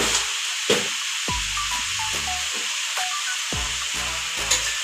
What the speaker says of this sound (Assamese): এতিয়া আমি মিক্স কৰিম ভালকৈ।